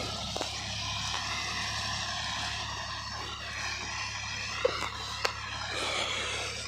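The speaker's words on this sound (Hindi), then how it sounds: "वो चल रहा ट्रैक्टर" A steady tractor engine drone runs throughout, fairly distant, ploughing a field, with a low constant rumble and a few faint knocks, no talking.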